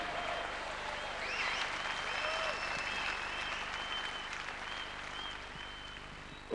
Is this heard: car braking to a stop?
no